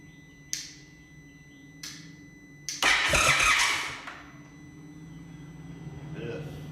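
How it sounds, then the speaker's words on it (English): An Indian Chief motorcycle engine is cranked after fuel priming. Two short starter bursts come first, then a longer loud cranking surge that fades after about a second, all close by. "I'm actually surprised that the bike is even trying to start"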